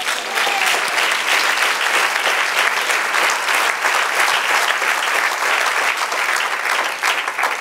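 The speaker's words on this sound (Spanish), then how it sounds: "Dale un aplauso al Señor." A church congregation breaks into loud, sustained applause during a sermon, a dense and even roar of clapping that continues strongly for more than seven seconds, with faint voices mixed in.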